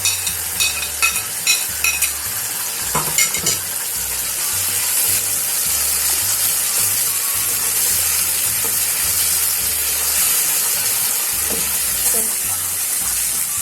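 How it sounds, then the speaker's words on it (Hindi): Boiled, mashed potatoes fry in masala for Lahori chikar cholay, a loud, dense sizzle and hiss. Several sharp stirring knocks come early, then a steady frying roar continues with no talk. "अब हम इनको डाल के 3-4 मिनट इनको भी अच्छी तरह भूनेंगे"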